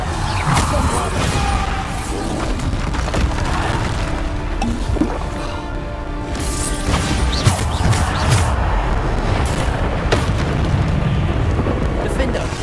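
Bombarda spell explosions in the Hogwarts Legacy video game, a dense barrage of booming blasts and crashing debris that runs continuously and loudly, with spell-casting voices and combat noise mixed in.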